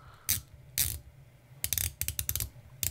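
A Waldhoff Seawolf Everfrost diver watch bezel being turned makes crisp, close ratcheting clicks in short bursts: two single clicks, then a quick run of several, then another click.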